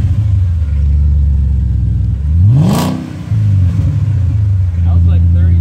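An Audi A6 C5 with the 4.2 engine and its mufflers cut off revs up in a single loud, rising and falling blip over a steady, deep idle rumble, close by.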